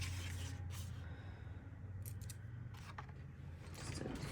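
Scissors snip through paper scraps in a few short, crisp cuts spaced out over several seconds, quiet and close against a faint room hum.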